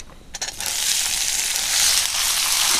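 Chopped kachri (pehta) vegetable tipped into hot oil in a frying pan, where golden-fried badi already sit, bursting into a loud, steady sizzle after a few brief clatters as it lands.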